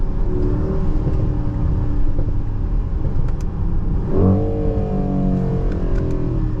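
A 2023 Mercedes-AMG GLE 63 S Coupé engine rumbles loudly up close, then revs sharply upward midway in Sport Plus mode, its exhaust note rising and holding with pops.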